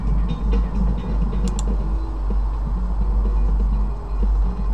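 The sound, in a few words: train passing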